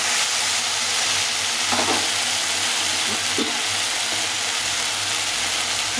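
Chutney frying in a pan during home cooking gives a steady broadband sizzle throughout, with a few faint scraping stirs, and no one speaks.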